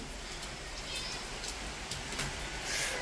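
Heavy rain pours in a steady, dense hiss that stays fairly loud and even throughout, with no voices heard.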